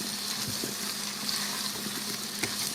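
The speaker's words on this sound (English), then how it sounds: "You're just going to let this saute for a few minutes." Vegetables sauté in leftover Italian sausage grease, giving a steady close sizzle with occasional light clicks of a utensil against the pan, no one speaking.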